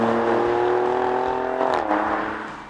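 Alfa Romeo Quadrifoglio with a big V6 and open exhaust valves, its engine revving loud and close in a strong steady drone that rises slightly in pitch near the end, then fades.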